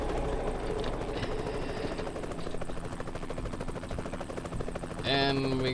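A helicopter's rotor chops steadily in the background of American Truck Simulator with a continuous engine drone, joined near the end by a brief tonal chime.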